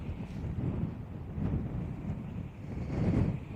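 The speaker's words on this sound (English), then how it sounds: "sorry about the wind." Steady low rumbling wind on Dartmoor tors buffets the microphone, with gusts swelling and easing throughout, no voices.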